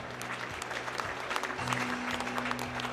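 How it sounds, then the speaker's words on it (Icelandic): A crowd at an Icelandic horse competition applauds a rider and horse placed in the results, a fairly faint, steady spread of clapping heard from a distance over a low hum. "Gefið þeim gott klapp."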